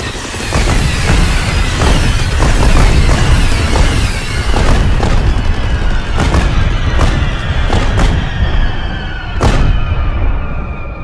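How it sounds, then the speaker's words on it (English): Strobe rocket fireworks with salutes go off one after another in loud, booming bursts at a gas station. Sharp cracks ring out over a dense, continuous crackle and rumble, with no speech. "Those are definitely strobe rockets, guys. With salutes."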